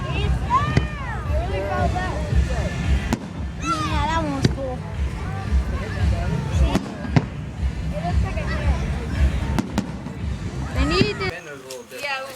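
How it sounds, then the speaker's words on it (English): Backyard fireworks at a house, with sharp bangs and crackling bursts going off repeatedly over the whole stretch, amid wind noise and excited voices talking and exclaiming throughout. "Some more fireworks."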